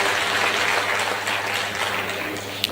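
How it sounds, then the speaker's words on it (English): An audience at a state policy unveiling and graduation ceremony gives a round of applause, a moderately loud, steady wash of clapping lasting a few seconds. "I think they deserve a round of applause."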